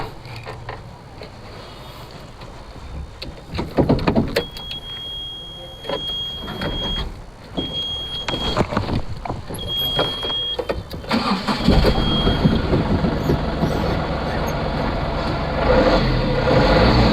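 An Ashok Leyland Dost light truck engine cranks and catches, then settles into a steady idle with a brief rise in revs, close by and fairly loud throughout.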